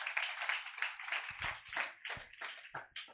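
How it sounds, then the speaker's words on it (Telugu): A church congregation claps together at an evening sermon, a dense run of quick, uneven hand claps lasting a few seconds, moderately loud and close. "చప్పట్లు కొట్టి దేవుని నామాన్ని కనపరచండి"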